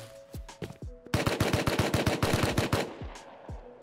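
Gunfire in the survival game Rust: a few scattered single shots, then a rapid burst of a dozen or more sharp automatic rounds, loud and close, followed by a couple of trailing shots.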